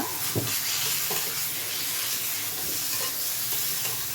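Mashed potato samosa stuffing stirred in a hot pan on the stove, a steady close scrape and light sizzle with a few sharper spatula knocks, no talking.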